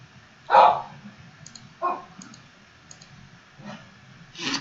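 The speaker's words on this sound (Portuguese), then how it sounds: "O cachorro está latindo na porta para entrar." Indoors, a dog barks a few times at the door to be let in, short separate yaps spaced irregularly with quiet gaps and faint clicks between, heard from a moderate distance.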